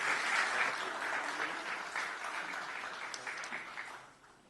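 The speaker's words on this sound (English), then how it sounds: "Let's give them a nice hand of applause." Steady crowd applause at a Christian conference in Jerusalem, welcoming the First Lady and guests; dense clapping holds loud for about four seconds, then thins and fades near the end.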